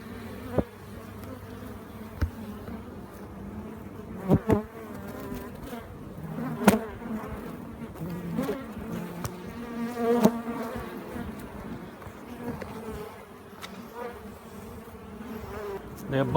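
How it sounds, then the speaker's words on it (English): A dense, continuous buzz of many bees swarming close by inside a wall with comb, with occasional louder passes and sharp knocks over the steady hum. "There are a bunch of bees in here."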